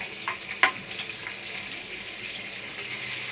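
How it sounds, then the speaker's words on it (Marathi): Butter and oil heating together in a pan give a steady, fairly quiet sizzle that stays even throughout, with a sharp clink or splash just after the start. "तेल आणि बटर गरम झालं आहे."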